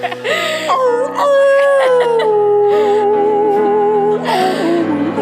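A dog howls in long, wavering, song-like tones, its pitch sliding up and down with a vibrato quality, loud and close, joined at moments by other voices.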